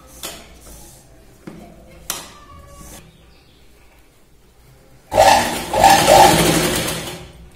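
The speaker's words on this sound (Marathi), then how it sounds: "या पद्धतीने इथे स्टिच करायची" A sewing machine stitches a strip onto a blouse. A few sharp clicks and knocks come first, then a loud, close, continuous motor whir takes over for the last couple of seconds.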